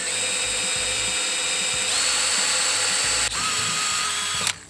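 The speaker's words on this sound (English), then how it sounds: "This is 1/4 inch thick steel, so it's going to take a little bit of time and patience to drill through that" Power drill boring through quarter-inch thick steel while mounting a rotisserie kit, with a steady high whine that shifts pitch under load, close and continuous with no talk.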